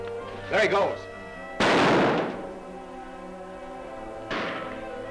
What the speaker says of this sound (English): Shots come from that direction, Kemo Sabe.